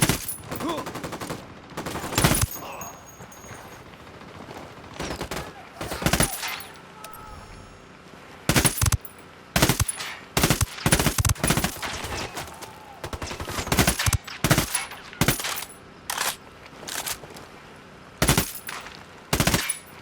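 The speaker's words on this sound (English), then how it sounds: "We poked the hornet's nest. Opening fire." Gunfire in the video game Ghost Recon Wildlands, repeated loud bursts of automatic rifle fire and single shots spread across a firefight, with quieter gaps between volleys.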